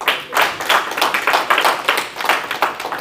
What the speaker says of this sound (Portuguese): Salva de palmas para o nosso Deus.